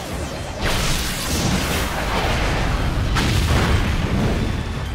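A Pokémon's explosion attack in a Pokémon Shield battle lands as a loud, deep boom with a rushing burst, followed by a sustained rumbling roar that fades slowly, with no voices over it.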